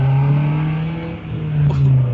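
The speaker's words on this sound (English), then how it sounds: "It's the car next door." A car engine next door drones and revs loudly in a steady low growl, swelling and dipping briefly, heard close and continuous.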